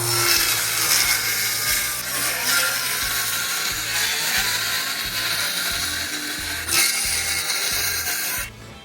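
Small Ryobi power tool working on wood while repairing a donkey shed flipped by a hurricane, a steady loud mechanical whir with a pulsing low rhythm running almost nine seconds, then cutting off abruptly.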